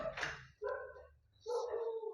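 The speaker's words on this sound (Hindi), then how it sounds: "पता नहीं कुत्ते यहाँ यही समस्या है, मतलब कभी कुत्ते चिल्लाने लगेंगे" Dogs bark outdoors in a few short yelping bursts at moderate distance, faint and separated by brief silences.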